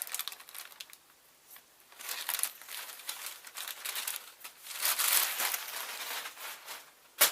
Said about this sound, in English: So let me just cut a little bit off.